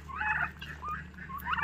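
Farm poultry kept alongside pigs, with gobbling, turkey-like fowl calls rising and falling in several bursts at close range over a steady low hum, no talking.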